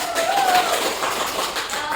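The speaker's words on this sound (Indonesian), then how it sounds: "Kita beri tepuk tangan." Classroom students clapping together for a group after a math presentation, a short burst of mixed claps with a faint voice.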